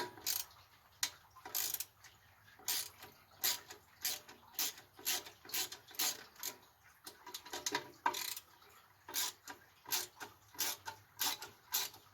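A ratchet wrench clicks out bolts holding the air cleaner housing to the carburetor on a 19 hp opposed twin engine during teardown, in repeated quick bursts of sharp ratcheting close by, with brief pauses between strokes.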